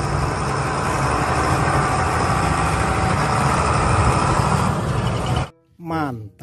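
Toy tow truck playing an engine sound effect, a loud continuous rumbling, idling drone for about five seconds, then a pause and a short stretch of speech.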